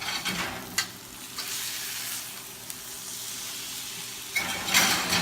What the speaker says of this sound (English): We're going to flip our steak.